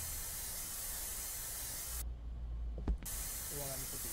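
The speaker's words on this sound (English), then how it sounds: "Okay, spray paint the wall now" Spray paint hisses onto a wall in a video game as a steady broadband spray, broken by a sudden drop to near quiet for about a second before the hiss resumes.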